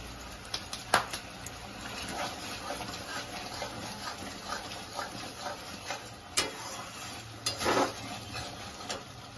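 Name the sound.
spice masala sizzling as it is sautéed in a pan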